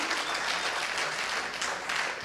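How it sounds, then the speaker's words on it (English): An audience claps steadily and densely at a testimony event, a loud continuous wash of applause with no voices over it. "you can clap for her now."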